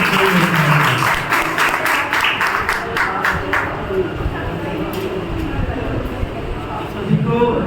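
An audience claps at a Hindi poetry gathering (kavi sammelan) in Nangli. The clapping is brisk and close at first, then thins and fades out into murmuring room sound after a few seconds.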